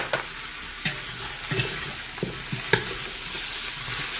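Onions and green peppers sizzling in a stew pot as they are stirred and tossed, a steady frying hiss broken by several short scraping stir sounds, close and moderately loud with no talking.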